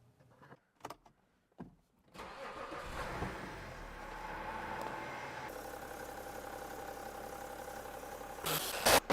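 A BMW 530xd diesel under rebuild after a wreck cranks and catches, settling into a steady, fairly loud idle close by. A few short clicks and knocks come first, and there is no talk.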